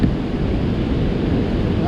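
Turbulent water pours over the Osage River lock and dam in a loud, steady roar, with constant rushing and churning close by and some wind buffeting the microphone.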